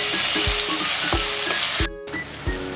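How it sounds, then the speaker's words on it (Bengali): Chopped tomatoes dropped into onions already frying in oil for Bengali egg curry with poppy seeds sizzle loudly and steadily up close, with a few stirring scrapes and a brief dip before the sizzle returns. "পেঁয়াজটা আমার ভাজা ভাজা হয়ে গেছে, এর মধ্যে আমি এবার টমেটো কুচিটা দিয়ে দেবো।"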